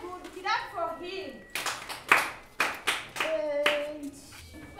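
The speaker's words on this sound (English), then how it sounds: "Clap for her." Children in a classroom clap in several short bursts after a teacher's prompt, with a voice speaking over the first part.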